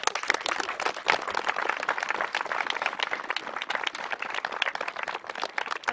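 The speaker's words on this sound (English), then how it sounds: "I would like to a clap for the girls" Crowd applause for girls' under-14 football teams after a championship final, dense steady clapping from many hands throughout, fairly loud and close.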